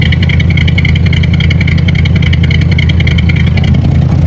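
A 1984 Corvette engine runs steadily at idle with a slight stumble, a loud, close, continuous drone with a faint irregular pulse and no talking.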